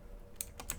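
Two quick, faint computer key presses for a keyboard shortcut click close by against a quiet background.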